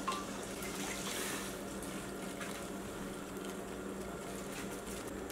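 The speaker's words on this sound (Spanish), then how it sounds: "Le eché tantita agua a mi vaso" Water poured into a glass during cooking, a soft, steady trickle and splash heard close but quiet, with a faint kitchen hum beneath and no voices.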